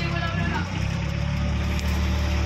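An L300 van engine hums steadily at idle during a driving lesson, a low continuous drone that holds for the whole stretch with a slight dip partway through.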